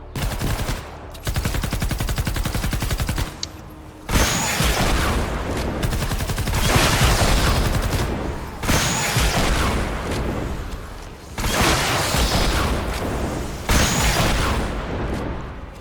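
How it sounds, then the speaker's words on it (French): Fortnite Save the World combat: dense, continuous rapid gunfire mixed with booming rocket launcher explosions, loud and sustained with repeated heavy bursts throughout. "le lance-roquette, ça m'attaque"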